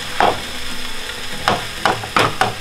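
Food fries in a pan for a cheap, quick breakfast, with a steady close sizzle broken by several sharp spatula scrapes and bursts toward the end, and no speech.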